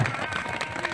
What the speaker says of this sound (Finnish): Annetaan Hönölle aplodit.